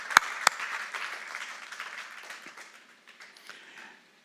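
A church congregation gives a short burst of applause during a worship service, starting loud with a couple of sharp claps and fading steadily to scattered claps and near silence over a few seconds.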